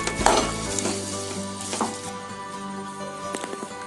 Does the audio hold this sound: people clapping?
no